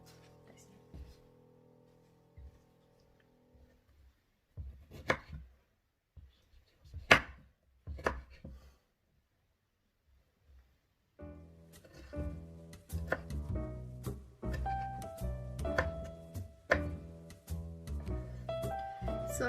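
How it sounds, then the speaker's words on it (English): A blunt knife slowly chopping tomatoes on a board for bruschetta, a few sharp, spaced-out thuds, followed by a stretch of someone talking. "I'm chopping very slowly because my pisau is very tumpul"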